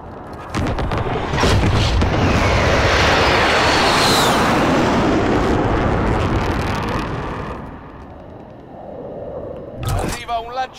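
Precision airstrike in Call of Duty, a loud rumbling barrage of booming explosions sustained for several seconds and then dying away, followed by sharp game sounds, with people talking throughout.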